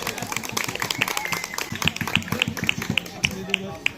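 An audience applauds at a traditional picnic festival ceremony as guests are called to the stage: a brief, uneven patter of close hand claps mixed with someone speaking over a microphone.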